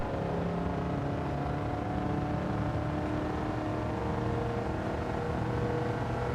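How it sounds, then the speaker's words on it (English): A race car engine in Gran Turismo 7 drones steadily at a constant, strained pitch without climbing, a continuous bogged-down hum filling the whole stretch. "It feels like the car bogs down."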